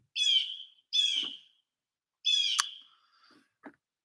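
A bird of prey calls outdoors in a quiet setting: three clear, drawn-out cries spaced apart, each falling off at the end, followed by a faint shorter call.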